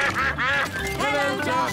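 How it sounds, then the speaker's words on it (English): Cartoon ducks quack in a quick series of nasal calls, close and clear, with no talking between them. "Hello, Ducks."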